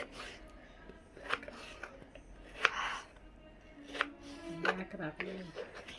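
Knife chopping potatoes into sticks for french fries on a cutting board, with a dozen or so irregular sharp chops and faint clinks, some muffled handling noise between cuts.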